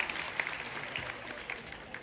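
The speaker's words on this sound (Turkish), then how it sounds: "O yüzden kendiniz için önce bir alkış istiyorum" Audience applause at a concert in Baku, a steady wash of hand claps with scattered brighter claps standing out, moderately loud and continuous for about two seconds without talk.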